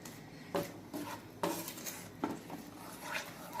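A spatula clanks and scrapes sharply against a pan three or four times while prawns are stir-fried for a coconut curry, with a soft background hiss between strikes.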